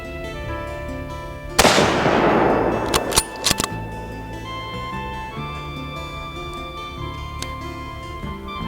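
A single loud rifle shot rings out during an Alabama swamp whitetail deer hunt, aimed at a buck, with a sharp crack and a long rolling echo trailing off. A few fainter knocks follow, then quiet ambience.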